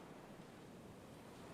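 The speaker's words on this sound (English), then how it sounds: "Double it up for all that extra wavy noise." Ocean waves wash steadily as a dense, continuous surf ambience, doubled up with a second wave layer in the Halo 3 Forge mode, with no talk over it.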